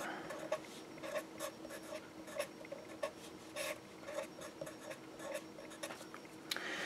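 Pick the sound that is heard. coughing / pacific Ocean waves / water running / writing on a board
writing on a board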